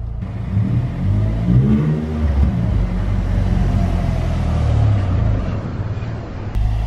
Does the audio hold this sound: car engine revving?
yes